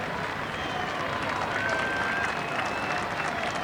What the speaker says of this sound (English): Just listen to the crowd trying to help.